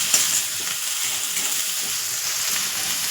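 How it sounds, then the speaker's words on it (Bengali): Chopped onions with salt sizzle steadily in a hot pan while being stirred, a loud continuous frying hiss with small scraping movements and no voices. "ভালো করে নেড়ে পেঁয়াজটা যাতে সফট হয়ে যায় সেই জন্য আমি অপেক্ষা করব"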